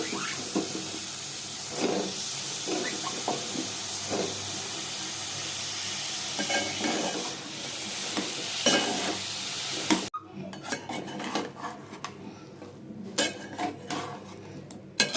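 Mushrooms being stirred and mixed in a pan for a mushroom fry, with repeated scraping and clinking of a utensil against cookware, a soft sizzle and steam hiss, and louder sharp clatters toward the end.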